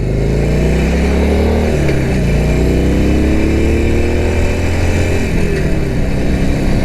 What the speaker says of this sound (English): It sounds like a motorcycle should sound.